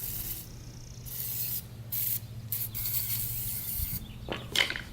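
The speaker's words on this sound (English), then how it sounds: "you may want to use some penetrating oil, just like some liquid wrench. Spray some in there before you do anything else" Liquid Wrench penetrating oil is sprayed into the wheel bearings of a Suzuki RM 125 dirt bike in several sharp hissing bursts of varying length, with faint mechanical rattles between them and no talk.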